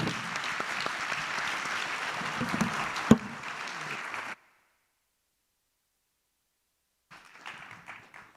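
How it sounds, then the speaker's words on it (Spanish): An engineering forum audience gives a panel a hearty round of applause that runs for several seconds, cuts abruptly to silence, then briefly resumes more faintly near the end. "pedirles a todos un gran aplauso"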